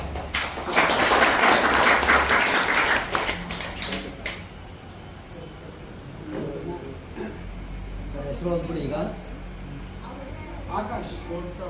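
A burst of applause from a small group at a gathering at a blind and deaf colony in Mysore, lasting a few seconds, followed by people talking in the room.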